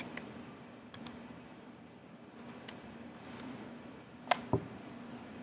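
Sharp computer mouse clicks, a few isolated single clicks spread out over quiet room tone, with a pair of louder close clicks near the end.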